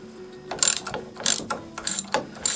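A ratchet clicks in quick bursts while backing bolts out of a plate on a 1965 Evinrude 3 hp outboard motor, with short rhythmic pawl runs and pauses, close and clear, with no talking.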